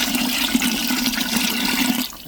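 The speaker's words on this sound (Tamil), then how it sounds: "தண்ணி சேர்த்துக்கிறேங்க இந்த நேரத்தில்" Water pours steadily into a cooker in a continuous splashing stream, close and fairly loud, with a low steady tone underneath, tapering off at the end.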